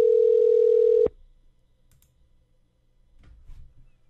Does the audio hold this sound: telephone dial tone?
yes